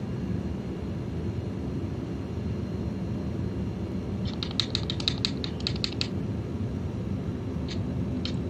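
Flaps on a Zlin Shock Ultra STOL bush plane in a flight simulator, a short run of faint clicking mechanical ticks over the steady loud drone of the engine and cockpit.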